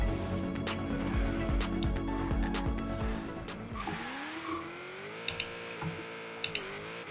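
A car in Forza Horizon 3 drives with a revving engine that climbs through gear changes, then settles into a smoother rising drone, with a few sharp clicks near the end.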